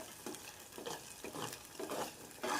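Spice masala fries in oil while being stirred, giving a series of close, rhythmic scraping strokes about every half second over a soft background sizzle.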